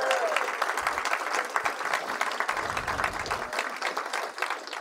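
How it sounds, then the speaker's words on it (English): Applause fills a mayoral press conference, a steady crowd of hands clapping continuously at moderate volume for several seconds, dense and even without pause. "Please give Lindsey a big round of applause."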